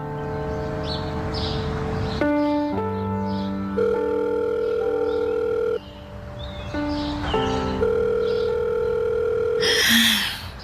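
Telephone on a call waiting to be answered, a loud, close series of electronic ringback and dial-tone beeps in varying pitches with short gaps, ending in a brief noisy burst.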